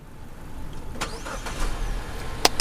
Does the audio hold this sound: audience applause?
no